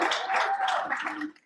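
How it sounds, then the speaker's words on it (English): Brief burst of audience applause for a professor at a university life science faculty orientation, dense clapping that fades out at the end. "Please give him a round of applause for recognizing himself with you."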